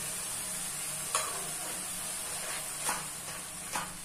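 Cashew and yogurt paste, seasoned with salt, turmeric and sugar, fries in a pan under a faint continuous sizzle, with three brief spatula scrapes spaced a second or two apart.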